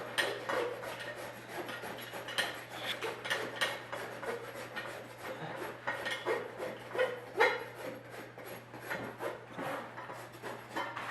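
A rasp files the edge of a horseshoe to match the hoof, giving rhythmic scraping strokes that are close and fairly quiet, with a faint steady hum underneath.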